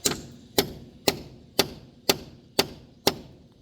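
A hammer drives concrete nails through a half-inch plywood form base into a concrete slab. Seven sharp, evenly spaced blows land about half a second apart, loud and close.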